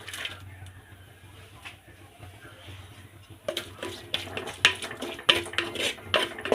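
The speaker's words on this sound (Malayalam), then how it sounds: "ഈ ഉള്ളി ഒരു ചട്ടിക്കകത്ത് കുറച്ച് എണ്ണ ഒഴിച്ച് ഇതിൽ ഉള്ളിയിട്ട് ഞാൻ ഫ്രൈ ചെയ്തുകൊണ്ടിരിക്കുക" Onions cooking in oil inside a clay pot being seasoned, with scraping and clinking of a utensil against the pot growing louder and busier in the second half over a low steady background hiss.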